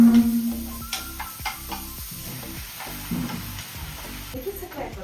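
Carrots, almonds and raisins frying in a pan give a close, steady sizzle, broken by scraping stirs and small clicks from the utensil.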